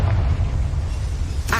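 Confringo fire spell cast in Hogwarts Legacy, a loud low rumbling blast that fills the whole moment, ending in a brief brighter burst.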